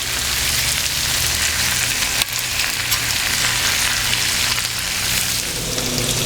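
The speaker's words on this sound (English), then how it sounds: "Can you hear that sizzle?" Marinated steak fajitas sizzle on a Blackstone griddle, a steady, dense hiss and crackle that holds loud and even throughout, with no voices.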